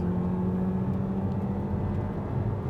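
A 2024 Hyundai Kona's engine drones steadily with a low, constant hum and road roar, held under hard acceleration from 100 to 120 km/h throughout.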